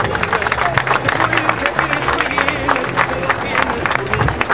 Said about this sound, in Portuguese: uma salva de palmas para o focado